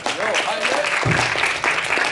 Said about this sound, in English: Please give a big round of applause to Usman Shabbar, aka Highlight.